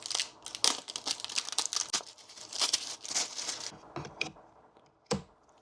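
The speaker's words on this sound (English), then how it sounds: "so I can take this plastic right off" Plastic protective film peeled off the screen of a Real Relax Favor 6 massage chair, a close run of crinkling, crackling rustles with a few sharper snaps near the end, no talk.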